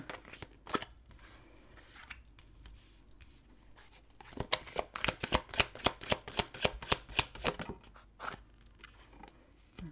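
Tarot cards shuffled by hand in a quiet room, a soft riffling that builds into a quick run of crisp card flicks and slaps near the middle, then trails off into a few scattered taps.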